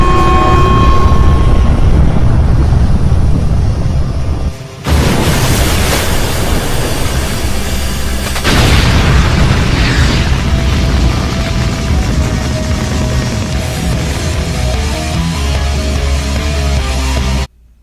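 Weapon fire and explosions in an English-dubbed zombie anime battle scene: a loud, dense, continuous roar with sharp blasts near 5 and 8.5 seconds, sustained under heavy rumble with a layered score throughout.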